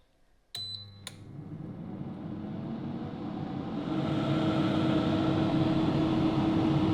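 An AI air fryer starting up to cook chips at 200°C: two sharp button beeps, then a fan hum that rises gradually and settles into a steady whirring drone.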